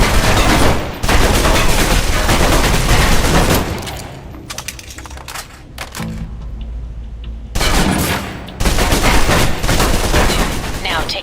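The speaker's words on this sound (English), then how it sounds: "Now, let's move on to the submachine gun. Now let's empty the clip." Sustained submachine gun fire in Alpha Protocol, one long loud automatic burst emptying the magazine, a lull with scattered shots and echoes, then a second heavy burst, all with no talking.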